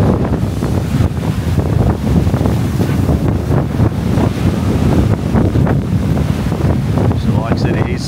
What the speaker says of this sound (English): it's certainly building up to be quite a bit of a storm